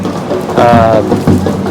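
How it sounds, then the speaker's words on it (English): Loud, dense rain pours steadily close by at a rugby league match between the Bulldogs and Dolphins, with a low rumble underneath and a brief tonal whine partway through. "The rain has not stopped whatsoever."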